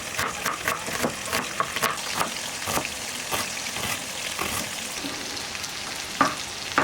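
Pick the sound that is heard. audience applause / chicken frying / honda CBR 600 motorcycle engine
chicken frying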